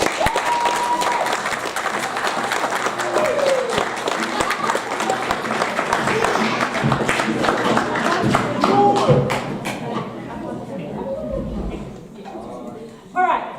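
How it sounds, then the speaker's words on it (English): A school assembly crowd applauds Year 13 students, with loud, crackling clapping and scattered cheers carrying on for about ten seconds before fading to quieter murmuring and a final burst. "So can we just have one more round of applause for all your work?"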